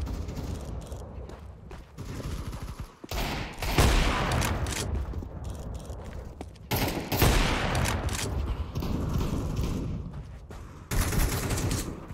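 In Counter-Strike 2 deathmatch, an AK rifle fires loud, fast bursts and a lot of gunfire crackles, with short gaps between the volleys.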